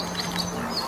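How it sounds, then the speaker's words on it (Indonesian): A duck quacks in the dinosaur video game Jurassic World Evolution 2, a few short bright calls over a steady low game hum and ambient background. "ini ada bebek"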